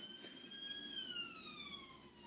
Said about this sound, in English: Ambulance, fantastic.